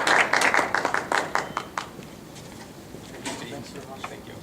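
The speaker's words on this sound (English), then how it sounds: "give a round of applause" An audience at a Toastmasters meeting claps in a burst of applause that is lively at first, then thins and trails off into scattered claps within a few seconds.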